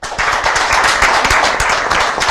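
Spirited crowd clapping at a Master Cross motocross event in Brugherio, loud and close, with rapid individual claps standing out from the mass as the audience is gauged by applause.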